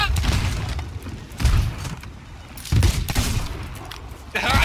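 Cannon and gunfire boom in bursts during a ship battle in a pirate video game, with three or four heavy volleys of blasts and thuds under shouting voices.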